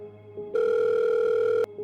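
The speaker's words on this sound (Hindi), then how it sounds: "वो फूड डिलीवरी वाले को फोन मिलाता है" Telephone sound effect: a steady dial-style tone swells loud for about a second, then cuts off to a fainter hum, with no voices.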